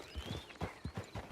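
Horse hooves in the video game Red Dead Redemption 2 clip-clop in a steady, close rhythm of roughly five or six even beats over a low ambient background, with no talking.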